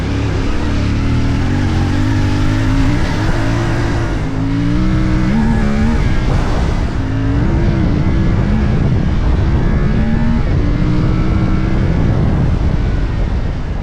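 A CFMOTO 450MT motorcycle ridden at speed, its engine droning loudly and continuously as the pitch climbs and drops through gear changes, with heavy wind rush throughout.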